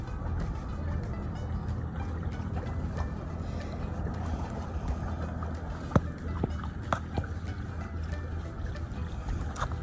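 Sailboat Kasada motors away from a mooring ball in Boot Key Harbor, giving a steady low engine rumble with water wash, plus scattered faint clicks and knocks on board.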